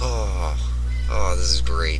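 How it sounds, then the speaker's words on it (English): A pet cat meows excitedly somewhere in the room, a couple of short rising cries audible behind a person talking over steady low game music. "My cat's excited. You can hear the cat in the background."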